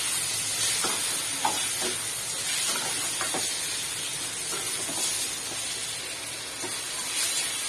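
Cleaned chicken pieces frying in a pan, a dense continuous sizzle and hiss with occasional soft stirring scrapes, close and steady throughout.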